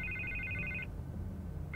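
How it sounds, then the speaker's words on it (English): Telephone ringing in Batman: The Telltale Series video game, a clear electronic trill that rings for nearly a second, pauses, then starts again, fairly quiet and with no voices. "I can't get the phone to stop ringing."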